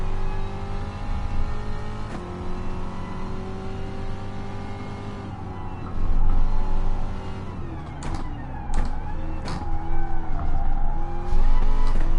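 Gr.3 race car in Gran Turismo Sport on the Nordschleife, engine droning steadily, then downshifting and revving as it brakes, with tire squeal and skidding under the shifting engine note, fairly loud and close.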